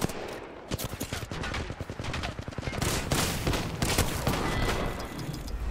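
Rapid machine gun bursts in a mobile shooter game, dense rattling fire with overlapping shots and a few heavier thuds, continuing loudly almost throughout.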